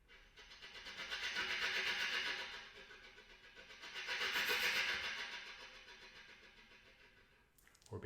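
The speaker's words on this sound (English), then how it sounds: "I'm going to repeat here the syllable t t t t t t as I play with air sounds." A bass clarinet blown with breathy air sounds while the player tongues a rapid, repeated t, giving two swelling waves of hissing air pulsed by fast, even articulations, fairly close and soft.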